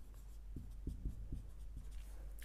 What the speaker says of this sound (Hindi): तो यहाँ पे लिखूँगा मैं